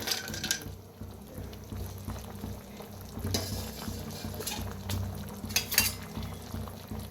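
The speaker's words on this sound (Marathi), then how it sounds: "आता हे तळून घेतलेलं बटाटो आणि काजू बी मिक्स करूया." Fried potatoes and cashews get stirred into rice in a pot, with soft scraping of a spoon, occasional clinks against the metal and a light background sizzle, all close and fairly quiet.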